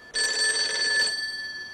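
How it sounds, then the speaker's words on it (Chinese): A telephone rings once in a short, bright electronic burst of about a second, close and clear, then quiet. "电话响的也不是你。"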